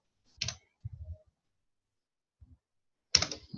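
Keys clack on an unfamiliar computer keyboard in a quiet room, with a few short isolated taps followed by a louder cluster of keystrokes near the end.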